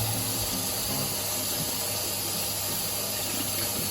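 Tap water runs steadily and fairly loudly over a peeled green plantain being washed, a constant broad rush of water with no pauses and no voices.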